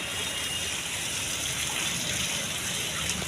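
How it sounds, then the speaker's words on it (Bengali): Water from a small outdoor waterfall pours in a steady, close rushing hiss that stays even throughout, with no talking. "দেখো আমাদের এখানে একটা ঝর্ণা আছে"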